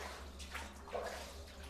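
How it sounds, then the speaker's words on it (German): A shower runs in DreadOut Keepers of the Dark, a steady, moderately quiet hiss of spraying water that continues unbroken and close by throughout, with no talk over it. "Duscht da jemand?"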